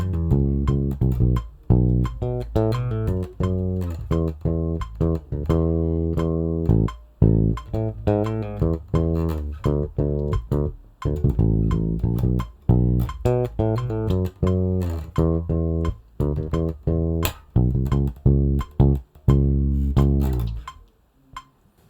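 A bass guitar part is played at three-quarter speed as a steady run of plucked notes and short phrases, loud and close for about twenty seconds with no talking.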